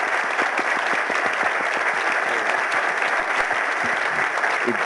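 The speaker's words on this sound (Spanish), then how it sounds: "le queremos dar las gracias a todos con un aplauso" An audience at a public-service ethics lecture gives a sustained round of applause, dense, even clapping filling the room at steady loudness throughout, with faint crowd murmur beneath.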